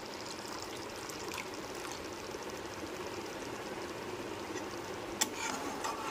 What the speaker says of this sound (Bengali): পনিরগুলো যে লবণ জলে ডুবিয়ে রেখেছিলাম সেই জলটা অল্প অল্প দিয়ে দিলাম